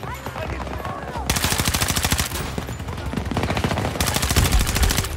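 Assault rifle fire in Battlefield 2042, rapid automatic bursts with evenly spaced shots that are close and loud, separated by short gaps, over a busy battlefield background.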